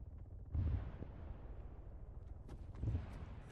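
Gunshots fired from a tower window in Arma 3 King of the Hill, two faint, distant-sounding reports about two seconds apart over a quiet background.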